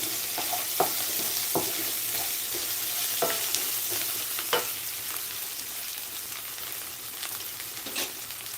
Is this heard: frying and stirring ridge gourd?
yes